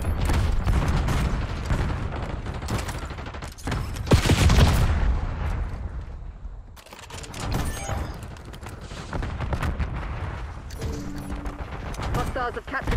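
Sustained automatic gunfire and explosions from the Archangel scorestreak in Black Ops 6 on the Nuketown map, dense and loud throughout with heavy booms midway and mechanical clatter, under occasional game voice callouts.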